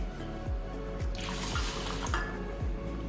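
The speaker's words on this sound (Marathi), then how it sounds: "2 वाट्या पाणी घालून ठेवायचे." Water pours and splashes into a container of jowar (sorghum) grain being set to soak, in a steady stream, with rhythmic dripping thuds underneath, close by and fairly loud.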